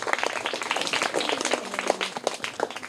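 Loud, dense applause from a classroom of young children cheering a correct quiz answer, steady and sustained throughout.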